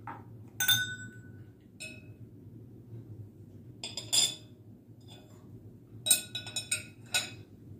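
An Anchor Hocking glass chip and dip bowl gives off bright, ringing clinks as it is handled, several separate taps and clusters of glassy chimes over a quiet low hum.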